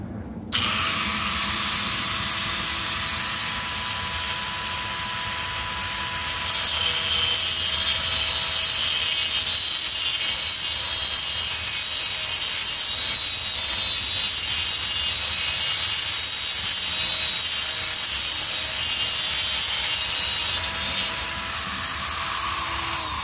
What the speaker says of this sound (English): I got my Dremel or rotary tool all set up. Just got a little cutting disc on there, and I'm gonna trim it back a little bit.